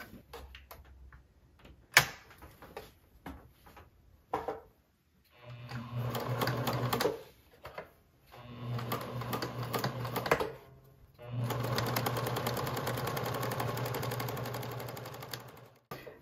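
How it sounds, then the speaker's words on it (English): A sewing machine stitches fabric for a bread bag's cord tunnel in three rapid, rhythmic runs, each starting and stopping, after scattered clicks and handling noises. "Now I will sew this together here to create this tunnel for the cord"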